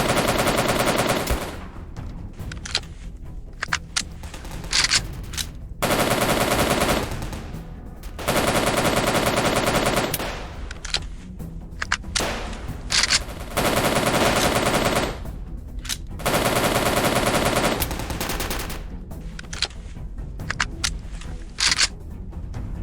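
Soviet soldiers fire in a war video game, with loud repeated bursts of automatic gunfire in several clusters, broken by short quieter gaps.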